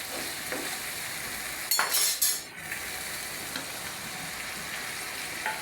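Masala frying in a pan while being stirred, as pointed gourd goes in for a prawn and pointed gourd curry; a steady soft sizzle with a brief louder burst of clattering stirring midway.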